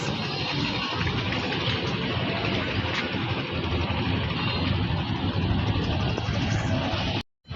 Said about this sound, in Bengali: এটা হলো সতরঘাট লঞ্চ টার্মিনাল আমার পিছনে লঞ্চ দেখা যাচ্ছে